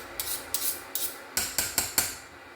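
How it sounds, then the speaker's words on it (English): Hot peppers being scraped with a utensil, seven sharp rasping strokes at a steady rhythm, close and fairly quiet, with no talk. "I'm just gonna scrape"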